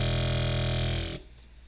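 A thick, distorted synth bass made in Serum growls loudly with a gritty buzzing drive tone, holding steady for about a second before cutting off abruptly.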